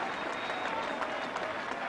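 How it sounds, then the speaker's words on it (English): A rugby crowd at a 1983 Newbridge versus Llanelli match applauds a clearance kick with dense, steady clapping that fills the whole moment at an even, fairly loud level. "The crowd applaud that fine clearance kick by the fair-haired Paul Turner."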